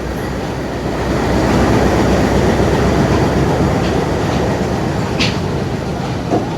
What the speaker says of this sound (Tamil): திருவோணமலையிலேருந்து கொழும்பு நோக்கி புறப்படுற இந்த புகையிரதம் வந்து பயணத்தை தொடருது